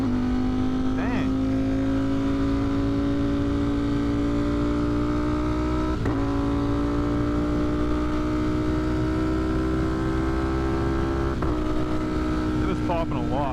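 A 200+ hp motorcycle fitted with a smaller front sprocket drones steadily at close range, its engine pitch slowly rising, with occasional exhaust pops and crackles through the run.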